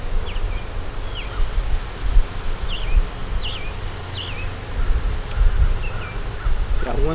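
Honeybees swarm around an open backyard hive during an inspection, making a steady, close buzz that rises and falls, while scattered birdsong chirps sound in the background.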